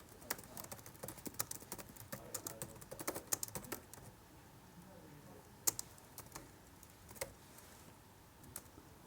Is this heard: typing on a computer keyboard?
yes